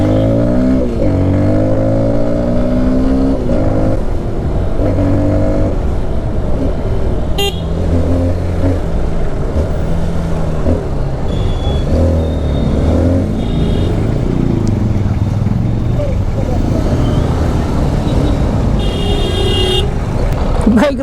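An NK 150 dirt bike engine runs steadily while being ridden, a constant close drone with wind rush layered over it and no clear breaks across the stretch.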